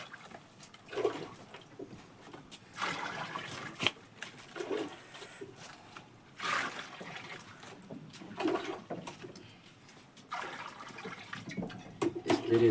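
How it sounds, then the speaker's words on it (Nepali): Cold water is poured during distilling of homemade raksi liquor, giving uneven splashing and trickling bursts over a steady background wash, fairly quiet and close. "चिसो पानी हाल्ने हो।"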